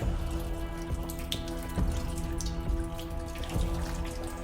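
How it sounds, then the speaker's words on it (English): Irregular drips of water falling into a small pool, soft splashes scattered over a steady low background hum. "sound bubbles in this room for the dripping of the water that makes this little pool"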